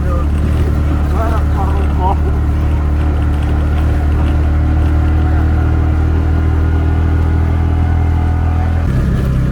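Small motorcycle engine labouring up a long, steep, slippery uphill road, a loud, continuous low drone that stays strained and close throughout, with a brief shift near the end.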